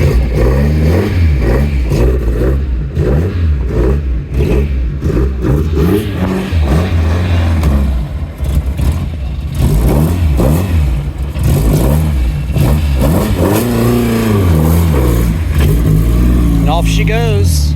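A classic car at the Moda Miami Concours revs its engine and pulls away, several loud rising and falling revs close by, then the engine note fades as it drives off; people talk over it throughout.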